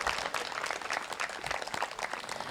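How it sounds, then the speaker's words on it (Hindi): A festival audience at the Murthal Mahotsav applauds after a performance, fairly faint, scattered clapping with uneven, flickering rhythm, heard alone and without speech. "शायद एक तालियां और बनती हैं जी"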